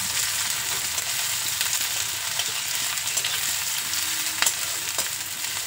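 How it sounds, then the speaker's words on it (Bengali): Chopped onion fries in hot oil with a dried red chilli, a steady dense sizzle throughout with a few faint scrapes of stirring, close and continuous. "পেঁয়াজটা একটু লাল করে ভেজে নেব।"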